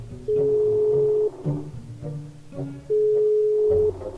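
A telephone dial tone sounds while a friend is being called, two long steady beeps separated by a gap, with faint rustling and clicks between them.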